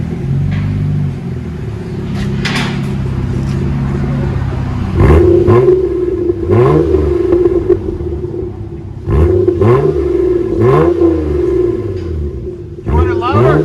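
A 2002 Toyota Camry V6 with a muffler delete and DC Sports exhaust tip revs repeatedly, each loud throaty burst rising and falling over a steady idle rumble, with people talking nearby.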